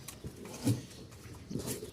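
Flying-breed pigeons cooing in two soft, low bursts, close by and fairly quiet, with light background noise between the calls.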